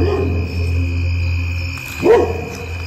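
On a farm, a dog lets out a single bark in a field, somewhat distant, over a steady low hum of background noise.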